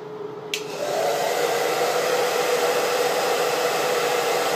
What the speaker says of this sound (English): So I am going to start diffusing this before it gets too dry.